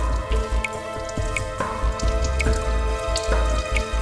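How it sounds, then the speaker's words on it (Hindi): Water dripping from a leak in a village setting, with irregular drops landing one after another over a low background hum. "यहां से पानी टपक रहा है"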